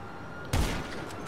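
A single gunshot from a video game, GTA 5 Online, rings out with a loud sharp burst and a brief decaying tail, set against a steady background hum.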